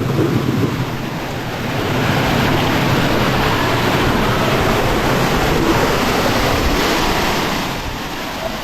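The loud, continuous roar of the Napitchhara waterfall with rushing water fills the whole stretch, steady and unbroken, with no voices.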